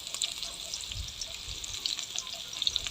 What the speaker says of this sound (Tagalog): after ng bawang, pag mapula-pula na, lagyan naman na po ulit natin ang sibuyas.